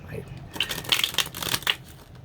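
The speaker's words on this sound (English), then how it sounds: "I really need to learn how to bridge shuffle." A deck of tarot cards is shuffled by hand during a reading, a soft riffling and slapping rustle lasting a couple of seconds, close by and fairly quiet.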